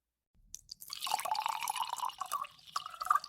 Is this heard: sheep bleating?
no